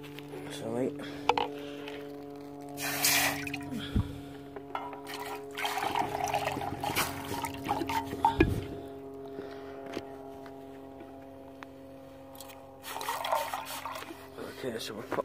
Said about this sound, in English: Okay, so we'll pop some more water in there.